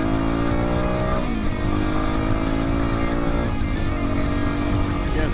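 A Kawasaki KLX400 motorcycle accelerating hard, the engine note climbing steadily through one gear, then dropping sharply at a clean shift and climbing again through the next, loud and continuous.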